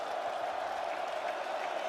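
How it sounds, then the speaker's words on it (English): A near-sellout college football stadium crowd at an Iowa vs Rutgers blackout night game roars in a steady, dense wash of cheering with no break. "Near sellout crowd on blackout night."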